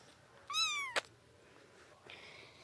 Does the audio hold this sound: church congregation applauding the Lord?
no